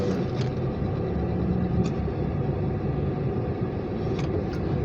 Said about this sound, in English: And then it just started right up.